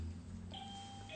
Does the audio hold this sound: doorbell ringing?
yes